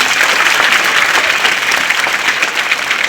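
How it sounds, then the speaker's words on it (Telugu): A dense, loud burst of applause from a crowd of school students in a high school gathering, steady and continuous, filling the whole moment with no talk over it. "అందరూ చప్పట్లు కొట్టండి ఒకసారి"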